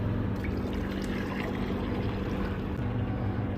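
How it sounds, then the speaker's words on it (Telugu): Hot water poured from a vessel onto a surface crusted with built-up cream, a steady continuous splashing trickle mixed with a low background hum, no talking. "వేడి నీళ్ళు తీసుకొని పోస్తున్నాను చూడండి."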